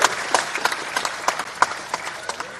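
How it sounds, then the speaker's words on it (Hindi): An audience at a highway project inauguration ceremony claps to welcome a guest, scattered uneven hand claps spread through the crowd, moderately loud with a roomy echo. "मैं चाहता हूं ताली बजा के भी उनका स्वागत किया जाए"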